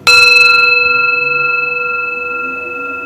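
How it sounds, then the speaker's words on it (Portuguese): A single iron temple bell is struck once, ringing out loud with a clear tone that slowly decays over several seconds. "O sino de ferro, nos lembra da iluminação."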